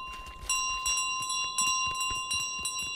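Bells ring in Untitled Goose Game, a run of bright, steady chimes struck again and again in quick succession, loud and sustained over faint background clatter.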